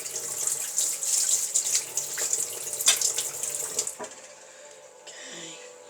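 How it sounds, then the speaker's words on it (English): Tap water runs steadily over a sharp kitchen knife in a sink, a bright continuous splashing rinse that cuts off near the end, leaving a softer trickle. "Just rinse it off a minute because I used it last night and didn't get around to washing it up yet"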